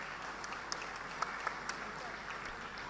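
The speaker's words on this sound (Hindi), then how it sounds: "ये तालियां लगातार बजती रहें" Steady, faint applause from an audience at a sports awards ceremony in Bhopal, a continuous dense patter of many hands with a few sharper claps standing out, sustained throughout.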